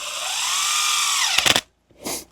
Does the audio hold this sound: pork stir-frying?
no